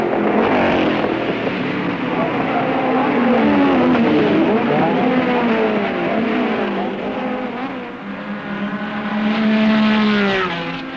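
A pack of 1968 British Saloon Car Championship racing cars roars away from the grid and up the rise to Paddock Bend, engines loud and rising in pitch with overlapping revs, under continuous commentary.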